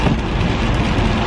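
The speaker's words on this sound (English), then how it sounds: "I feel weird driving in the rain." Heavy rain pours steadily onto a moving car at around 65 mph, a loud, dense, unbroken hiss with no one talking.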